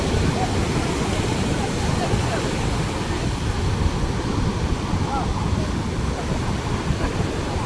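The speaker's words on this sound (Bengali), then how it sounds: "ঢেউয়ের আওয়াজটা শুধু" Sea waves breaking on a beach near Chennai, Tamil Nadu, a loud, steady roar of surf mixed with gusting wind buffeting the microphone, continuous for the whole stretch with no pauses.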